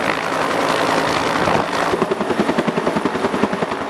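Rescue helicopter hovering and lowering for an airlift, its rotor roar steady and close at first, then a distinct rhythmic thudding of blade slaps emerging as it descends.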